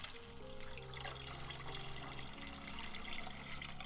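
About a litre of water poured into a minestrone soup pot on the stove, a steady close splashing and gurgling that runs for the full few seconds over a faint tonal background.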